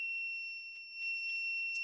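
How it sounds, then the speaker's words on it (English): A buzzer driven by a LabVIEW-controlled hardware setup sounds a steady, thin high-pitched electronic tone that continues unbroken, dipping slightly in loudness midway, alone with faint background noise. "Why this buzzer is still giving me a sound?"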